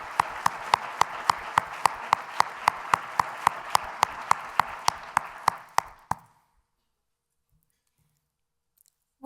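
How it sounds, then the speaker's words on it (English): A crowd at a corporate award ceremony applauds a finalist team with dense clapping and sharp individual claps standing out, holding steady for about six seconds before cutting off abruptly into silence. "Let's have a big round of applause for Plastic Product Companies in our Minnesota Dakotas"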